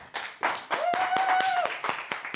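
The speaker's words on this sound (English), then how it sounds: "thank you for applauding for yourself" Studio audience clapping on a talk show as an actress guest arrives, a burst of applause swelling and continuing steadily, loud and close, with a brief whistle over it.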